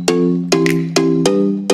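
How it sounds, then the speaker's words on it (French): A notification bell sound effect rings out as four or five bright, metallic chimes at a steady rhythm, each struck sharply and ringing briefly before the next, loud and clear with no talking. "activer les cloches de notification pour être informé sur chaque publication"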